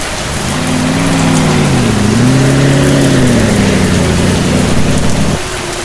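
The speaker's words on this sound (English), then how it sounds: "It has rained heavily today." Heavy rain pours loudly and steadily, with a low humming engine-like drone rising and falling over it before cutting out near the end.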